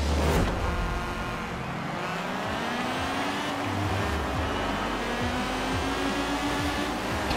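A race car engine in Forza Horizon 4, a 90s B-class car, drones continuously and loudly up close with a rising pitch as it accelerates, no voices over it.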